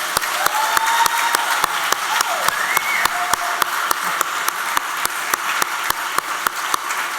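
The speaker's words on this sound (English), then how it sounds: "Could we appreciate her by just giving her a round of applause?" A room of people applauds Jude at a talk by Lorraine Jones, a steady, even wash of clapping with sharp periodic clicks running through it, sustained and fairly loud.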